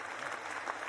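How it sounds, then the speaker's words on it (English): Steady applause from a crowd fills the whole moment, dense clapping at an even loudness with no voices over it. "applause for me"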